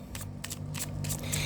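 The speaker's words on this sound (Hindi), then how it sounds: "Last shuffle." Tarot cards being shuffled by hand in several quick riffling bursts, crisp papery flutters repeating roughly every few tenths of a second over a steady low hum, close and moderately quiet.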